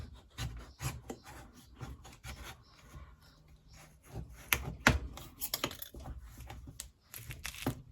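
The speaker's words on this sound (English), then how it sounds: "I always use a little paring knife." Small paring knife cutting food on a board in a home kitchen, a series of quiet, irregular taps and scraping strokes close by, with no talking.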